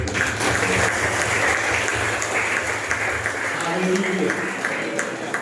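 A church congregation claps hands together in a sustained, dense round of applause, steady and moderately loud, with voices over it.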